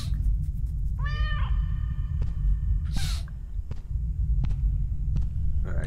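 A house cat gives one clear rising meow close by over a steady low hum, followed by a faint scuffle and light clicks.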